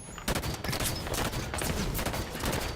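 Battle rifle fire from Halo 5 sounds as a steady run of quick, sharp shots, moderately loud and close, continuing without a break.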